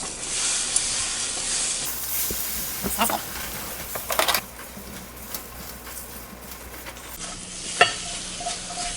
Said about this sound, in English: Let the pan get nice and warm. Ready for the eggs.